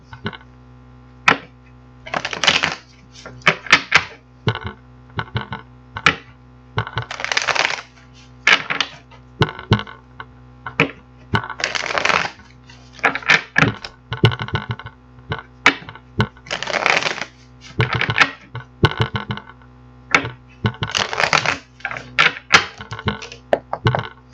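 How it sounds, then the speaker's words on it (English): Repeated bursts of riffling and soft slaps of a tarot card deck being shuffled, close up, in uneven rhythm with clicks between bursts. "So we're going to get this deck shuffled up."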